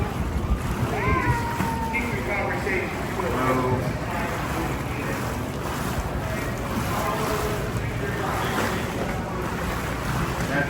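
A tour boat motors past on the San Antonio River Walk, a low engine rumble mixed with wind buffeting and lapping waves, with people talking nearby.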